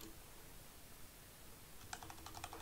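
A command is typed on a computer keyboard with quick light key clicks in a short burst near the end, after a stretch of faint room hiss with no talk.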